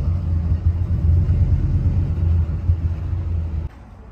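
A car rolls up and arrives with a steady, close low engine rumble that drops off sharply near the end as it settles, with no talk.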